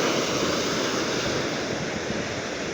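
Soft, continuous wash of gentle waves rolling onto a beach shore at Visakhapatnam, a steady even rush with light wind, no voices.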